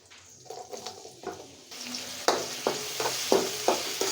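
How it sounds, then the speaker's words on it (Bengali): Chopped onion, salted, frying lightly in oil in a pan for a prawn and spring onion stir-fry, a steady sizzle broken by repeated stirring scrapes and clinks, close and moderately loud. "পেঁয়াজটা দিয়ে একটু হালকা ভাজা দিয়ে নিব"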